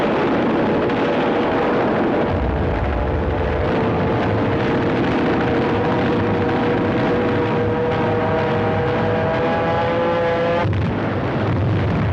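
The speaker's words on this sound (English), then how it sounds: "The U.S. planes swarmed all over the Japanese fleet." U.S. warplanes attack a Japanese fleet in a Pacific War naval air battle, with a loud, continuous roar of aircraft engines and rumbling explosions, a droning engine tone rising steadily before cutting off near the end.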